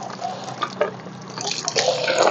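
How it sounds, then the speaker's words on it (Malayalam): Water runs steadily from a hose pipe outdoors after washing an Adenium arabicum plant, a continuous close splashing flow with scattered drip-like spatters and no talk. "ആ പൈപ്പൊന്ന് ഓഫാക്കിയാൽ നന്നായിരുന്നു, വെള്ളം നഷ്ടപ്പെടുത്തണ്ട."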